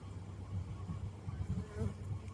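Steady low buzzing of honey bees hovering close by in a garden, droning continuously with small swells in loudness and no voices.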